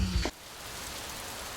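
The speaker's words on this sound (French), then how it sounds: "malgré la pluie" Steady rain falls with a soft, even hiss after a brief louder burst at the start, continuing alone without any voices.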